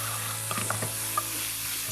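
Onions and garlic sizzling in a pan, a steady close hiss with a few light clinks and scrapes of stirring scattered across it.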